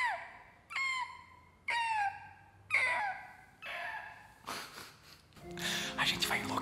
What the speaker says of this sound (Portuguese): Uma gaivota.